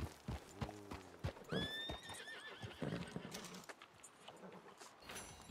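Hooves clop in an even rhythm while a horse gives a loud, wavering whinny partway through, in the video game Red Dead Redemption 2 Online.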